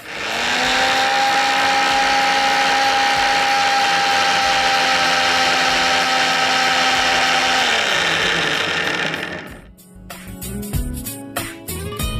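A mixer grinder whirs loudly and steadily, blending a paste for mushroom soup with added ice cubes and water, its motor pitch sagging before cutting off, followed by light clatter of the jar.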